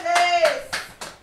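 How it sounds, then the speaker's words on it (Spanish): Live studio audience applause at the close of a variety show, four sharp group claps in a slow beat, with a voice talking over the first half. "Escuchen los aplausos."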